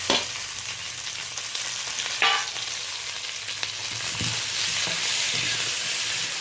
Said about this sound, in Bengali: চেরা কাঁচা লঙ্কা কেটে রাখা টমেটো কেটে রাখা পেঁয়াজ আমি অ্যাড করে দিলাম